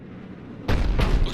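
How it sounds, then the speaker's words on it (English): A heavy cannon in the Mass Effect 3 video game fires two loud, booming blasts in quick succession, close and powerful after a low background rumble. "Looks like Cerberus got that cannon operational, Commander."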